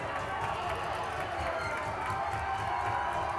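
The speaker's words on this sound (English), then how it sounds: "The Stoneham faithful are clapping" Stoneham hockey fans at a boys' ice hockey tournament quarterfinal in an indoor rink, clapping as a steady, dense wash of applause and crowd noise that holds constant throughout.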